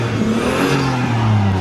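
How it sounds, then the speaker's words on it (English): A turbocharged Nissan S15 Silvia engine with new turbos revs loudly and continuously, its pitch rising and falling with a turbo-like whir, heard up close without any voices. "New turbos. That's never sounded like that."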